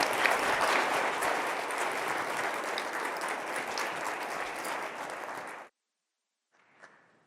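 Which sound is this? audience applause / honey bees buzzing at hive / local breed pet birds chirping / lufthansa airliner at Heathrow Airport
audience applause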